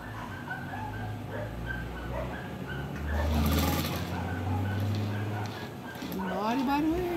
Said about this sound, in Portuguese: Ignore o barulho aí da cachorrada, porque aqui tem uma cachorrada na rua que não é fácil.